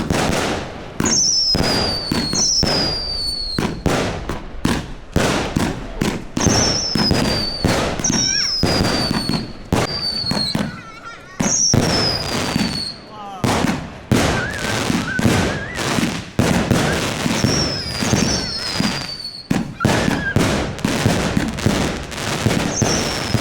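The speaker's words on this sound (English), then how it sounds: "After the New Year's Eve dinner, we set off a big firework together." A big display of fireworks set off after a New Year's Eve family dinner in central China, a long, loud barrage of rapid bangs and crackles with whistling rockets rising throughout, dense and close.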